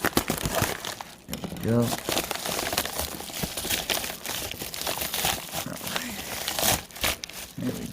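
An Amazon package is cut open, with plastic packaging crinkling and crackling and the sharp rasp of a cut across it, while a person talks over much of it.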